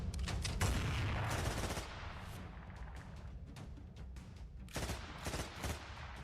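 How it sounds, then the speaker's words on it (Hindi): Rapid bursts of gunfire during a shooting at a crossroads in Pakistan, a dense volley at first that continues as scattered, slightly distant shots, then a fresh cluster of cracks near the end. "बाइक पर पीछे बैठा शख्स उतरते ही दोनों पर ताबड़तोड़ फायरिंग कर देता है"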